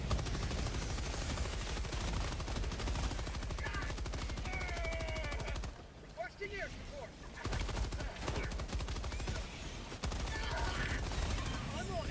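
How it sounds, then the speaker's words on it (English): Enemy grenade launcher fire in the video game Helldivers, heard as dense, rapid, continuous gunfire bursts with brief pauses, loud and close, under a voice talking. "That guy's got a grenade launcher and he's not afraid to use it."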